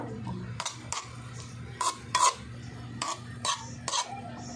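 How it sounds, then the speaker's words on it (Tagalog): Bitter gourd adobo stirred in a pan, with several short scraping and clinking utensil strokes against the pan over a low, steady cooking hum, close and moderately loud. "Tapos, haluin natin."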